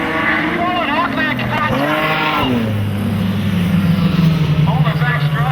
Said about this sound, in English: You can still hear the engine rev over there.